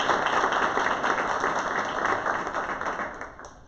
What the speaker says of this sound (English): Let's give Stuart a round of applause.